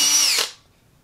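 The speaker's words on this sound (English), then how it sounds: "Drill a little pilot hole so you don't split the wood" A single short burst of a power drill whirring at high speed, boring a pilot hole in wood for a birdhouse, close and loud, cutting off after about half a second into quiet.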